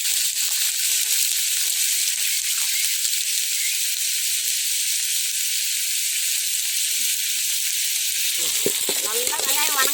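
Cumin, pepper, ginger, garlic and curry leaves fry in hot oil in a pan for a village-style chicken or fish curry, giving a loud, continuous close sizzle, with a brief stirring scrape near the end.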